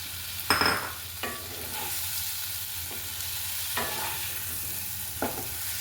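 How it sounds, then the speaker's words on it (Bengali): Continuous sizzle of eggplant frying in a spice mix in a pan, with several sharp spatula scrapes and stirs at intervals, close and clear. "এরপরে ভেজে রাখা বেগুনগুলো আমি এর মধ্যে দিয়ে দেবো"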